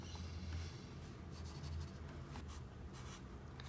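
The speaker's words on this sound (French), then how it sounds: "je commence avec la couleur ivoire avec laquelle on va colorier notre blé" An ivory colored pencil scratches across paper while coloring a drawing of a wheat sack, making close, soft rhythmic strokes with short bursts of quicker hatching, and no voices.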